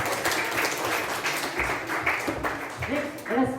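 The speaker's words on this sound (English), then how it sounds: "Please give a big round of applause." An audience at an award ceremony for youth leaders claps for the winners, a dense, steady burst of applause filling the room, with a voice briefly heard near the end.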